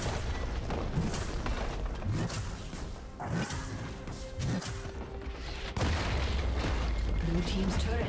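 A League of Legends turret gets destroyed with a heavy crashing explosion among ongoing game combat sounds, while a voice talks over the busy mix.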